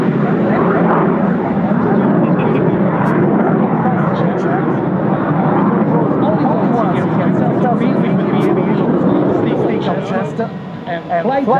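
A Eurofighter Typhoon jet fighter performing at an air show in Radom roars loudly and continuously with a broad rumbling jet noise, overlaid by a loud public-address announcer talking throughout.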